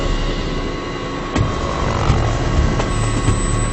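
Helicopter hovering high above the Sahara desert, a steady, loud rotor drone with pulsing thumps that runs throughout, with no voices.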